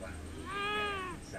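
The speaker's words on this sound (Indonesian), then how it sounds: "Kucing pun marah." An angry cat lets out one drawn-out, rising and falling meow that lasts under a second, fairly close, over a faint background hum.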